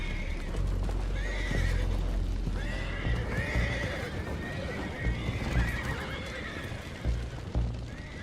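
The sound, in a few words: horses neighing in video game Red Dead Redemption 2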